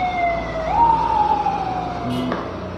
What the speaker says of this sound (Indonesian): ambulan lewat.